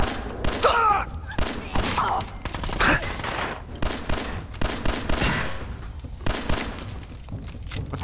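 Gunfire in Fallout 4 crackles in dense, rapid volleys of sharp, loud shots, some overlapping into fusillades, with brief gaps and a few faint voice fragments.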